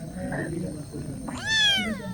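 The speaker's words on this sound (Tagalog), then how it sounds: "Ganda ng pusa sa view deck." A cat on a house's rooftop view deck gives one clear, rising-then-falling meow near the end, close and fairly loud, after low background noise and faint sounds earlier.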